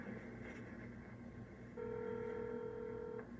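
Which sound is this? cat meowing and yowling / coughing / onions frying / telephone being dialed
telephone being dialed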